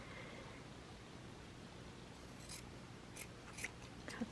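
Scissors snip through fabric pieces being cut out for a pillowcase dress, quiet and close against steady background hiss, with a few sharper clicks of the blades near the end.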